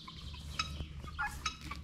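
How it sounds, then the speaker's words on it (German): A turkey gobbles in short, quick bursts at fairly close range, the calls rising briefly over a low background hum with no talk. "da kommt sogar eine Pute angerannt"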